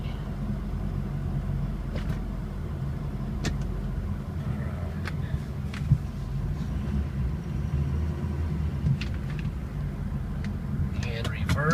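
2006 Ford F350 diesel truck running while moving slowly, shifting into four-wheel drive, with a steady low engine rumble throughout and occasional light clicks and knocks; someone talks.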